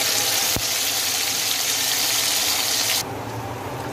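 Gravy masala with cumin frying in hot oil in a wok, a steady close hiss and sizzle that drops to a quieter sizzle near the end, with no talk.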